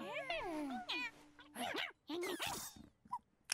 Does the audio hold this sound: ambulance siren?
no